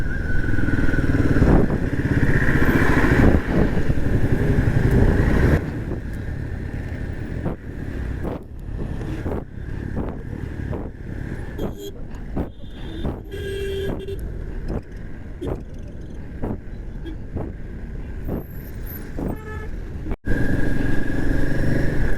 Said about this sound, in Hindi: भयंकर जाम है भैया यहाँ पे।